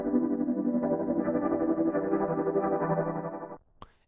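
Serum-made synth pad in a drum and bass style, a dense sustained chord with a gently shifting texture, cut off abruptly near the end before a brief click.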